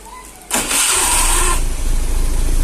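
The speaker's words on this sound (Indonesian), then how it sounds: "Oke, motor sudah bisa di starter." A 2013 Honda Beat motorcycle engine starts with a short loud starter burst, then catches and settles into a steady, close idle.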